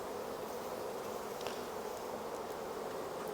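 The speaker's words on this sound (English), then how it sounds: "The bees are out." Honey bees fly around their hives in a continuous, close buzzing drone that holds steady without pause, with no voices heard.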